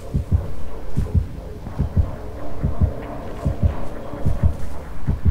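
Dead by Daylight terror-radius heartbeat thumps in loud, deep paired beats, repeating steadily about every second, close and booming over a low hum.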